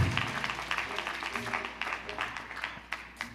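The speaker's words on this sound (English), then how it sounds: "Let's give the Lord a hand clap of praise for that." A church congregation at a live service claps hands in praise, uneven rhythmic clapping that is fairly faint, with a few voices mixed in.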